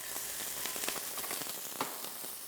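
Minced garlic and diced carrots sizzle in hot oil in a pan, a close, steady hiss with quick crackles and pops scattered through it and no talking.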